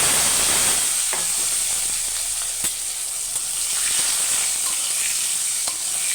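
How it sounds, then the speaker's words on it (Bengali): New potatoes frying in hot oil with whole cumin seeds and bay leaf, a steady close sizzle and hiss throughout with faint stirring clicks and no talk. "আলুগুলো হালকা লাল করে ভেজে নেব।"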